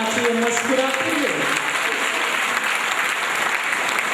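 An audience claps steadily and densely throughout, a constant close wash of applause with a voice speaking briefly over it at the start.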